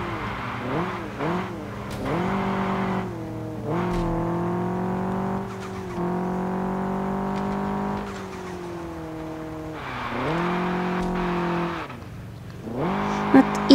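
A Toyota Supra in the Car Parking video game revs and accelerates through repeated gear shifts, its engine pitch climbing and dropping in waves over several seconds, loud and continuous with someone talking over it.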